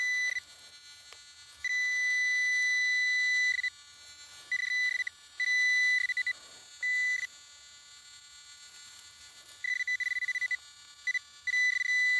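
Metal detector beeping while hunting for relics, sustained high electronic tones repeating in irregular bursts of one to two seconds with short gaps, fairly loud and close, with no talking over it.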